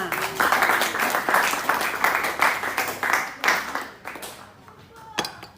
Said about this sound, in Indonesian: Aplaus buat kalian semuanya.